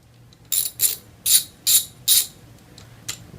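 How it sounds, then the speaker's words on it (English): A ratchet wrench clicks in about six quick, sharp bursts while removing a 6 mm hex bolt from the handlebar of a Yamaha FJR 1300 motorcycle, close and crisp with short gaps between strokes. "I'm going to remove the bolt. It's a 6 mil hex."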